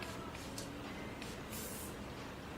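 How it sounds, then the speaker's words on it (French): Bouncy Spray hair spray misted from a can in short hissing bursts near the microphone during glamour hair styling, several quick spritzes over a low steady background. "Juste par-dessus, je vais rajouter un peu de Bouncy Spray."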